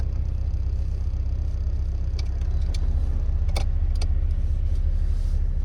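A car engine fitted with new NGK spark plugs and plug wires idles at a steady 1000 RPM with the lights on, a low, even rumble close by with a few light clicks and rattles.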